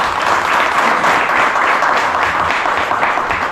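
A crowd at a Hindi-speaking Ambedkar birth anniversary event bursts into loud, steady applause, dense and sustained throughout with no speech over it.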